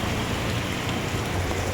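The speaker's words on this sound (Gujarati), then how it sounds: "હવે વરસાદ ફૂલ આવે છે" Heavy rain pours down outdoors, a steady dense hiss of drops with no break across the whole short stretch and no voices.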